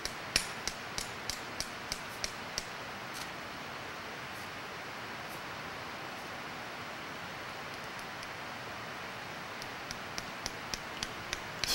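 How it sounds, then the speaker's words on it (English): Nails hammered through a horse's hoof while shoeing in the high Sierra Nevada wilderness: a series of sharp metallic taps clustered at the start and end, fairly faint over a steady background hiss. "it took quite a bit of hammering to drive a nail clear through a hoof"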